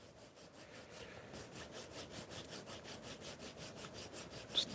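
Leather wrapped around a tool handle is sanded lightly by hand, giving soft, rhythmic back-and-forth scratchy strokes, about four per second, close and quiet, with no talking.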